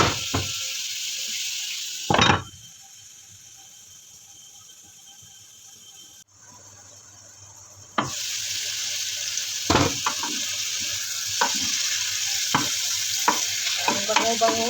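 Food fries in a pan with a spatula scraping and clanking at intervals. The sizzle drops away for several seconds, then returns with more stirring.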